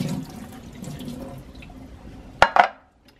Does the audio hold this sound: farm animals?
no